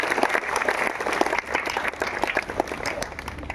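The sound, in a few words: loud applause welcoming a speaker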